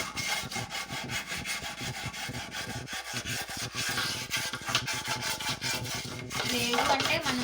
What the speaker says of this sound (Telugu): ఇప్పుడైతే ఒక బ్రష్ తీసుకుని అయితే రుద్దుతున్నాను అనమాట.